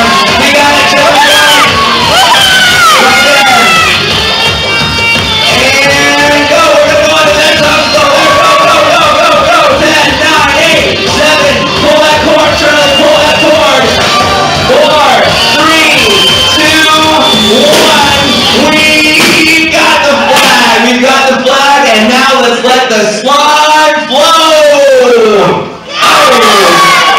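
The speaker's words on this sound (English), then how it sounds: "Keep going, audience, let's cheer them on" Audience at a Christmas game cheering and shouting loudly, a dense crowd of whoops and excited voices, mostly children, sustained without pause and briefly dipping near the end.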